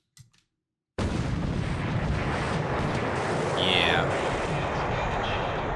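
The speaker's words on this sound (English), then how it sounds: "we got a torpedo hit here" Torpedo hit and explosions in the naval wargame War in the Pacific: a sustained, loud roar of blasts with a whistling descending tone, opening with a brief spoken word before the rumble starts.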